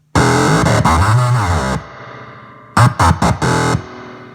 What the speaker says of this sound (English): it's a very metallic, classic spring kind of reverb